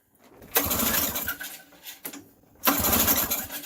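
A 1977 Honda Odyssey FL250 small engine, left sitting untouched, sputters briefly under repeated pull-starting: two loud bursts of rough cranking and firing separated by a quieter gap, close by.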